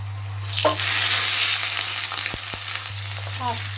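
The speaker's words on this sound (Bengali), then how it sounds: "আলুটা এবার একটু আমি ভাজা ভাজা করে নেব" Small cut potato pieces frying in hot mustard oil with sugar, bay leaf and whole garam masala, a loud steady crackling sizzle with occasional spoon clinks against the pan, close by.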